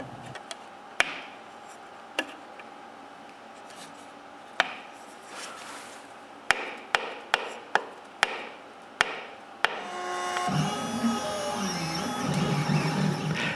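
A homemade pencil drawing machine ticks and clicks as it plots designs, with sharp isolated taps spaced irregularly and then quicker in a short run, before a busier mechanical whirring takes over near the end.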